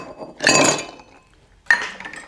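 Ice cubes clink into a glass while a three-ingredient amaretto drink is made: a bright rattling clatter, a short pause, then a second sharper clink, close and with no talk.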